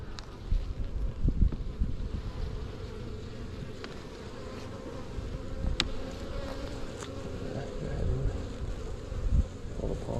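Honey bees buzz steadily around an opened beehive during early-spring hive inspection, a dense low droning swarm that stays close and constant throughout with faint rustling of frames and light wind.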